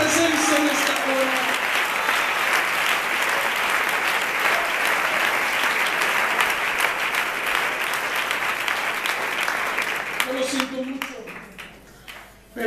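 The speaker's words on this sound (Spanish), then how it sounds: "Aplaudamos su presencia en esta hora." Congregation applause during a Spanish-language evangelical sermon at a youth camp, steady and dense across the room for about ten seconds before fading out, with a voice speaking near the end.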